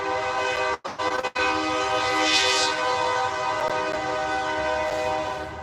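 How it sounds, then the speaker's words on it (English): A passing train with its horn sounding, sustained tonal blasts over rumbling rail noise, fairly loud and close, with no voices. "the train comes."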